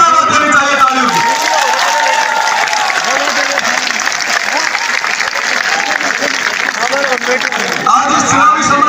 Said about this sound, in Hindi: विराटनगर की तालियां इतनी जोर से बननी चाहिए कि पूरी को आवाज देनी चाहिए तालियों की